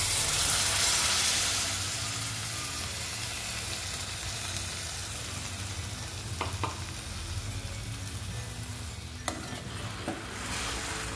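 Tomato paste goes into hot oil with masala for a Kashmiri-style potato dish and sizzles loudly in a hissing rush that eases into a steady fry, with a few faint clinks near the end.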